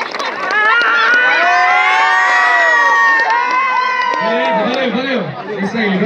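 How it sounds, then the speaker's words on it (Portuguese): A crowd at a running race awards ceremony cheers, whoops and shouts, with children's voices and chatter mixed in, loud and close throughout, with some talk audible beneath the noise. "Uma salva de palmas para o nosso guerreiro, nosso terceiro lugar, o diretor da corrida"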